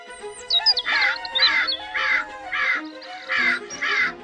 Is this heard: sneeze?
no